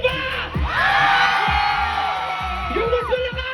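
A concert crowd at a show at a Cebu music festival shouts and cheers loudly and continuously, with whoops and yells rising in dense, sustained waves.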